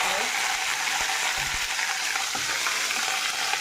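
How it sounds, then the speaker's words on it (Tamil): Mustard seeds and urad dal frying in hot oil, a steady, dense crackling sizzle with a few faint popping sounds and no voices. "எண்ணெய் ஊற்றி கடுகும் உளுந்தம் பருப்பும் போடுறேன்"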